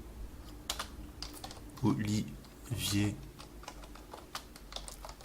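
Computer keyboard typing, a practice session of tapping keys, comes as a scattered run of light clicks through a few seconds, with a couple of short bursts of talk over it.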